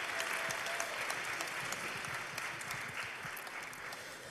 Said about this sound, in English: Let's just give ourselves a round of applause for getting to this point.